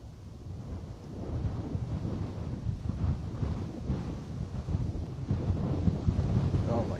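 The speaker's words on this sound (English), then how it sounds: "Oh my goodness me, this wind is outrageous." Strong wind buffeting a microphone at Bristol Airport, a steady low roaring rumble that swells louder toward the end, with no clear talk over it.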